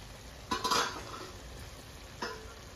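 A spoon scrapes and clinks twice against a pan of green chicken curry. The sounds are short and soft, with a quiet gap between them over a faint background.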